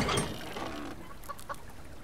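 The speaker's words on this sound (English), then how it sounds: "Hey, chicken." A chicken in the survival game Planted clucks a few short, soft times in the background, with no speech over it.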